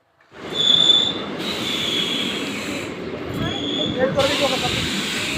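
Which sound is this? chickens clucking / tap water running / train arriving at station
train arriving at station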